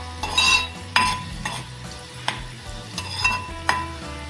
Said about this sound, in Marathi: लसूण आपल्याला हा थोडासा गोल्डन होईपर्यंत परतून घ्यायचा आहे.